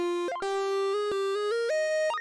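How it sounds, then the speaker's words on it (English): A bright synth lead preset named Arcade Trails plays a short melodic line of sustained tones with quick upward pitch glides between notes, clean and alone. "This next sound is called Arcade Trails"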